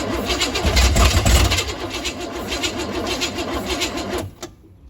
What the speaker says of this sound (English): Slow cranking a little.